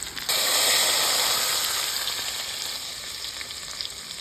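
Hot tadka hitting cooked chana dal in a dhaba-style dish, bursting into a loud sudden sizzle that hisses steadily and slowly fades, close up with no talking.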